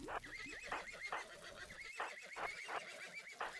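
Several horses neigh and whinny in a RimWorld colony, repeated whinnies coming in bursts across the moment, fairly loud and close with no talking over them.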